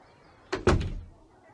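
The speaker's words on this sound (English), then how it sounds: "And the woman closed the door." A door being shut: a single solid thud with a short rattle after it, close and moderately loud, then a fading quiet, with no talking.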